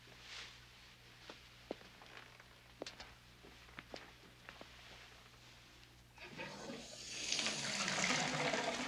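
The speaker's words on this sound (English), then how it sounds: "They can't hear us with the water running." Several faint clinks and small knocks give way to a steady rush of water running from a tap, which swells louder near the end, with soft voices faintly present.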